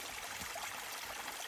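Spring-fed creek water flows steadily past a groundwater pickup along a river, a constant close rushing trickle with no other sounds.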